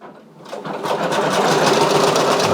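A Brother Persona embroidery machine sews a satin stitch on a flat-brim dad hat fitted with hook and loop. Its close, steady mechanical whir starts softly, then builds to a fast, even buzzing drone.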